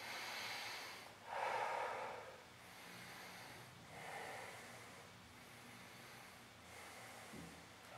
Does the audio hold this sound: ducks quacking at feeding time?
no